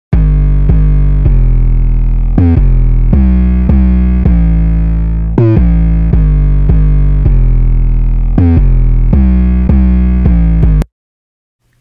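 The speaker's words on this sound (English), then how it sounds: "I'm just going to play you guys the 808 sound that we have here" Deep 808 bass drum notes for a K-pop production, a sequence of booming, sustained sub-bass hits with clear pitch changes in a steady rhythm, loud and alone, ending abruptly in silence.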